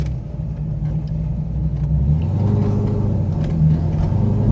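A cammed C5 Corvette's engine rumbles loud and close from inside the car on the road, a steady deep drone that swells slightly as it pulls along, with no talking.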